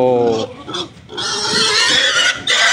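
Pigs grunting and squealing at a piggery where pigs are kept apart from cattle for weighing, loud and close, with a rising squeal at the start and dense harsh squealing continuing through the rest.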